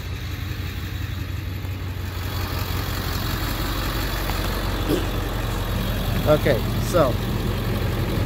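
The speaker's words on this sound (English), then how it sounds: "I hope you can hear me out here with the truck running." Pickup truck fitted with a Boss snowplow idles outdoors with a steady low engine rumble throughout, while someone talks close by over it.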